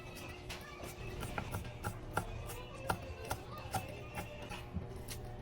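Knife slicing through softened boiled pork rectum on a board, a steady run of quiet, close taps and cuts about every half second over a low background hum.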